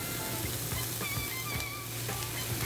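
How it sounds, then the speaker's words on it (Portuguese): Bacon and onion fry in a pan for an ossobuco with chickpeas, giving a soft steady sizzle with occasional small pops and light clinks, fairly quiet and without talk. "E agora faz-se a homogeneização, deixa fritar."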